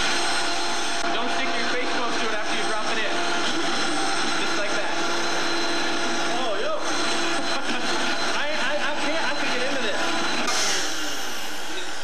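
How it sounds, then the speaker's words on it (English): A blender runs on low, mixing a fish and cream mixture with a loud, continuous whirring drone that holds steady the whole time, and people talk over it. "And you put it on low, so start blending."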